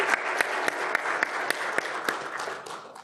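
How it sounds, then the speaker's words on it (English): A roomful of people gives a short burst of steady applause for the presenters at a tech talk, even and sustained with a few sharper individual claps standing out, tapering off at the close. "So once again, a big round of applause"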